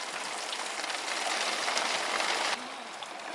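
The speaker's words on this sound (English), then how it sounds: "It's raining really heavy." Heavy rain pours down in a dense, steady hiss, loud and close, with no break for the whole stretch, during a storm at a marina.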